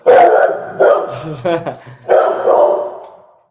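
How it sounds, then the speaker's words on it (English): A dog barks at a door indoors, several sharp bursts in a loose irregular run across a few seconds, loud and close, with people talking around it. "He's barking at the door."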